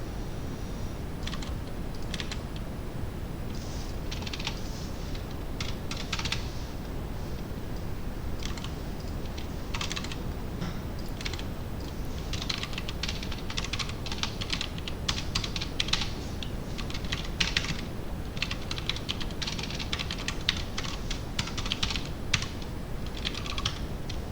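Keys clatter steadily on a computer keyboard as Python code is typed, a dense, continuous stream of close clicks over a constant low background noise.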